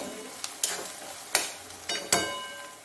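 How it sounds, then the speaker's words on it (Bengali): Ginger, garlic and onion paste fries in a pan, a soft sizzle broken by several sharp spatula scrapes and knocks against the pan, close up with no talking. "একটু ভাজি, আদা রসুনের পেঁয়াজ পেস্টটা দিলাম"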